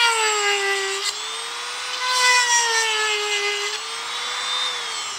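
A Poulan Pro chainsaw chain is sharpened with a round stone, giving a steady, close, high whining grind with a slightly wavering pitch, continuous and loud with no talk.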